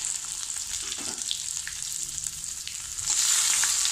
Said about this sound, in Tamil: இந்த வெண்டைக்காயும் சின்ன வெங்காயமும் நறுக்கினதை போடணும்.